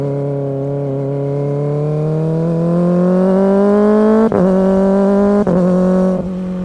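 A car with an aftermarket, non-certified exhaust muffler revs steadily, its pitch climbing for about four seconds before two sharp gearshift breaks. The tone is loud and close, with no speech.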